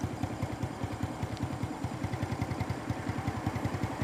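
A motorcycle engine runs on a dark road at night, putting out a steady, rapid chugging pulse at moderate distance with no voices over it.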